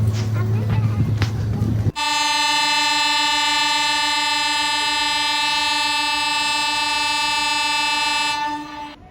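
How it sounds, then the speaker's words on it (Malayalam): A Chandigarh–Madgaon–Ernakulam express pulls into a station and blasts a long, loud, steady horn that holds for about seven seconds and then fades, after a brief stretch of platform rumble. "ചണ്ഡീഗഡ് മഡ്ഗാവ് എറണാകുളം ട്രെയിൻ വന്നു ഇതിനകത്താണ് നമ്മൾ കയറാൻ പോകുന്നത്"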